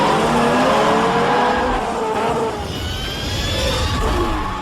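Race cars tearing through a street race in a film, engines roaring loudly and continuously with rising and falling pitch as they speed past, no voices.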